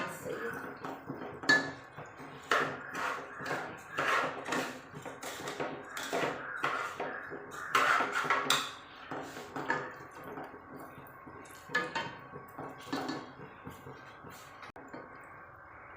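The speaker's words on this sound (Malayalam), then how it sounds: "ഒരു സ്പൂണ് തൈര് ഒഴിച്ച് കൊടുക്കുന്നുണ്ട്. നന്നായി ഒന്ന് മിക്സ് ചെയ്യും." A spoon mixes yogurt into a Malabar chicken biryani marinade in a bowl, making irregular soft squelches and light clinks against the dish, close and quiet, with no talking.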